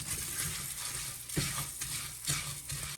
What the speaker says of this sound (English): Now we're gonna add our orzo in and toast it.